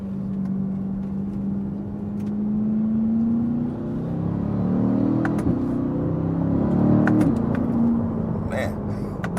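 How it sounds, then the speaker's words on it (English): Inside a C8 Corvette, the engine's induction note rises and falls as the driver downshifts several times, a loud, close rumbling drone with revving swells and a voice talking over it. "Nice induction noises."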